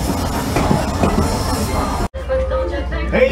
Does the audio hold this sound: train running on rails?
yes